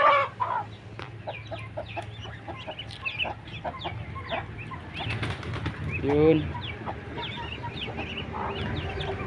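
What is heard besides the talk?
chickens clucking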